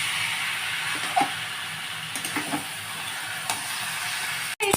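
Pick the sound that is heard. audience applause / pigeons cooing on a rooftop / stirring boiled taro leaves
stirring boiled taro leaves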